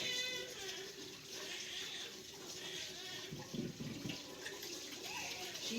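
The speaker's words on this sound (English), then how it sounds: "I'm just going to wash my hands off for a minute here." Tap water runs steadily as hands are washed under it, a faint continuous splashing with small shifts as the hands move through the stream.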